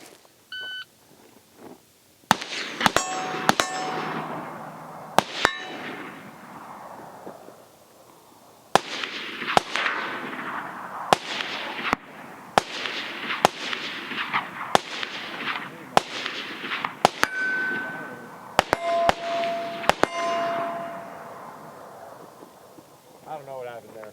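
A Palmetto State Armory JAKL rifle fires rapid strings of sharp, loud shots at steel targets, with metallic pings and a shot-timer beep among bursts, then a quieter pause between strings.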